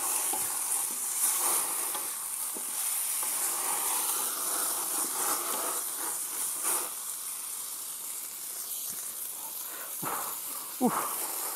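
Chinese-style dish frying hard over a roaring wood-fired traditional stove, a steady loud sizzle and hiss with crackling flames and occasional sharp pops and utensil knocks, no talking.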